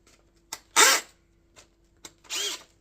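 A hammer drill set to hammer mode with a masonry bit fires in two short bursts, each a harsh rattling whine lasting about a quarter second, close and loud, with small clicks between them and no voices.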